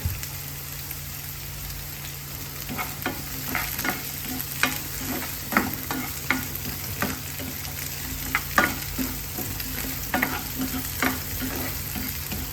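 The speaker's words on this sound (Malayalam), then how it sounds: "ഇതിനകത്തോട്ട് ഒരു തണ്ട് കറിവേപ്പിലയും ഇട്ട് കൊടുത്തേ" Curry leaves frying in hot oil for a fish curry with onions, stirred in a pan: a steady bubbling sizzle under a low hum, with repeated sharp scrapes and clacks of the spoon at an uneven pace, close and without voices.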